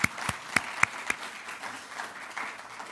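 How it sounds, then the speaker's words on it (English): Audience applause at a lecture gathering, brief and fairly faint, with a few sharp separate claps up front followed by a softer scattered patter. "Should we give him an applause?"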